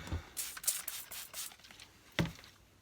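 Several short hissing sprays of cleaner hit a Kirby Avalir vacuum body in quick succession, followed by a sharper spray after a pause, close by with no talking.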